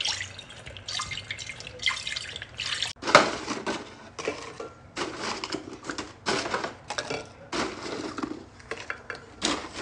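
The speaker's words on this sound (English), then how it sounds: "I'm just gonna make the pani puri water, pour some in here." Bursts of pani puri water pouring and splashing into a container, interrupted by clinks of dishes and utensils, repeating in short uneven spurts.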